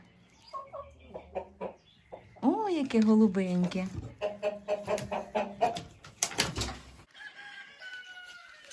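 Chickens cluck around a nest box feeding an egg collector on a small farm, with a rooster crowing amid the flock; someone speaks briefly over the close, busy poultry sounds.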